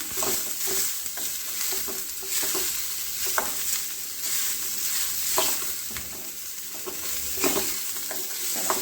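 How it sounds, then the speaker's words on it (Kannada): Onions fry in a pan for a ridge gourd dish, a continuous moderate sizzle broken by repeated scraping strokes of a spatula at irregular intervals. "ಚೆನ್ನಾಗಿ ಫ್ರೈ ಮಾಡ್ಕೋಬೇಕು. ಈ ಥರ ಫ್ರೈ ಆಗಬೇಕು."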